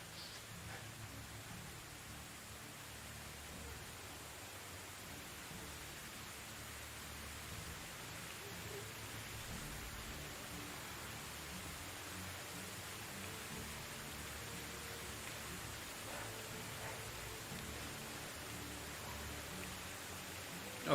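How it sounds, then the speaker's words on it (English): Steady rain falls in the medieval survival game Medieval Dynasty, a constant even hiss of rainfall that holds at the same level throughout with no voices. "the rain is just not letting up"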